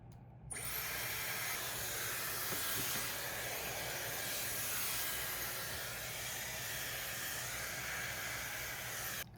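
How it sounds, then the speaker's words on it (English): Dyson hair dryer fitted with a diffuser, running on medium fan and medium heat, a steady close whooshing hiss that switches on and holds at an even level for several seconds. "So I am going to dry my hair on a medium fan and a medium heat."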